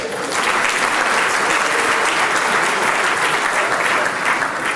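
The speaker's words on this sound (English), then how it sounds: "Give her a round of applause." Steady, dense applause from a large audience at a professional services awards ceremony, welcoming the host's assistant; continuous and loud throughout with no pauses.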